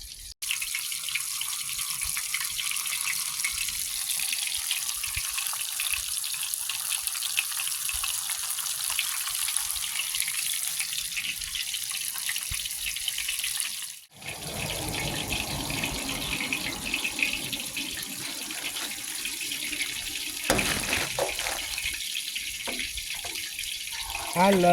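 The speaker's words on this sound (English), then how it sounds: "I'm gonna go ahead on and let this fish get to cooking" Fish frying in hot oil outdoors in a park, a steady loud hiss and crackle running continuously, briefly dipping midway before resuming with some clatter.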